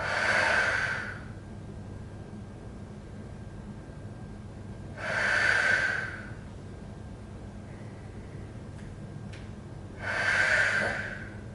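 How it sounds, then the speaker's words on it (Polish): Slow deep belly breaths during a pelvic floor and hip girdle activation exercise, three long airy inhale-exhale swells spaced about five seconds apart, close and fairly quiet over a steady low background hum. "Wykonamy około 8 takich oddechów, czyli oddech do brzucha"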